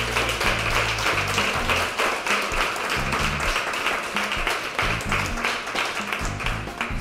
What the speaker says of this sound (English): Round of applause for the genius tip.